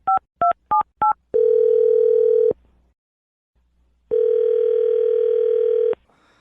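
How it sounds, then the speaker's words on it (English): A telephone line gives four short, evenly spaced touch-tone dialing beeps, then a long steady tone, a pause of near silence, and a second long steady tone, clean and close. "I'm going to dial her phone number right now, okay?"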